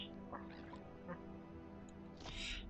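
Several quacks from ducks in the Roblox game Creatures of Sonaria, short nasal calls scattered across the moment over a faint steady game background, fairly quiet overall.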